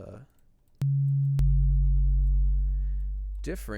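A steady, pure low sine wave tone from a sub synth switches on abruptly and holds for a couple of seconds, slowly fading, with a brief voice at the end.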